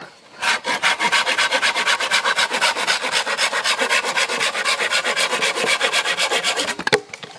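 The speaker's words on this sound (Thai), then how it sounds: "เนี่ยถ้าเราจะตัดอย่างเดียวเลื่อยง่ายสุดแล้ว" A hand saw cuts through bamboo in quick, steady back-and-forth strokes, close and loud with no talk, ending with a brief knock as the cut finishes.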